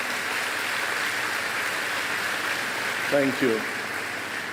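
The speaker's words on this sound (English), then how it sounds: "so can I hear that applause for your parents?" Graduation ceremony crowd applauding parents seated behind the graduates, a steady broad wash of clapping throughout, with a brief spoken thanks near the end.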